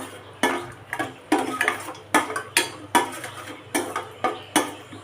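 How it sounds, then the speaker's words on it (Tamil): Cashews roasting in ghee in a pan, heard mostly as a regular rhythm of metal spatula scrapes and clinks against the pan, close and fairly loud, about two strokes per second. "முந்திரி பருப்பு வறுத்து எடுத்துன்ட்டேன்"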